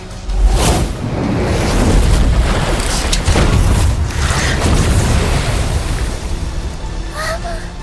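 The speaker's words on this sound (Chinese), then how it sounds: "柳如烟，给我轰碎他的旗舰！" A heavy, booming warship cannon blast erupts loudly and rumbles on as a sustained roar, with a whooshing, crackling tail.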